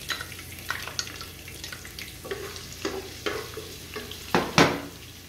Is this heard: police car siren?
no